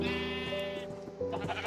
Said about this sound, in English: A lot of colored sheep here.